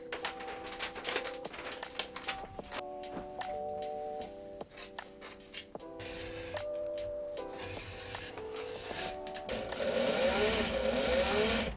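A sewing machine runs top stitching along a jacket cut from repurposed trousers, its rapid needle chatter coming in bursts among steady tones and ending in a louder, denser stretch.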